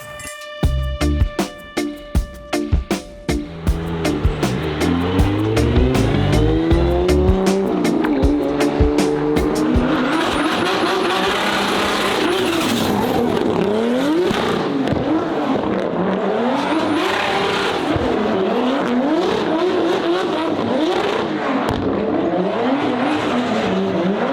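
A drift car at a Drift Masters 2025 event fires off a few sharp engine bursts, then holds a loud, sustained rev as the tires squeal and skid continuously, with pitch rising and falling as it slides.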